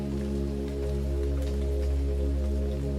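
Storm rain pours steadily and evenly, a constant dense patter over a low continuous hum with no gaps and no voices.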